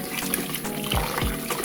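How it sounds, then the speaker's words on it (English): Water trickles and sloshes steadily, with soft pouring and a few low swishing surges, as rice is rinsed with warm water in a bowl. "what I'm going to do is to wash my rice with a warm water"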